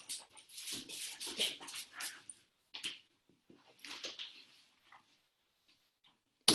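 A dog whimpers and yips indoors in a run of short, high, close bursts, pausing briefly and then resuming more sparsely, with no one talking.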